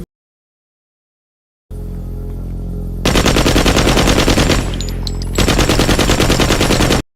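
AK rifle fire in a crime drama TV scene: after a brief silence, a low rumble gives way to loud, rapid sustained automatic bursts with a short lull between them.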